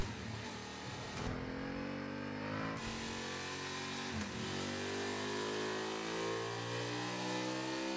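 A Honda Hornet 750 motorcycle fitted with an SC Project end can revs hard, its engine pitch climbing through repeated rising sweeps and gear changes, loud and close with no talking.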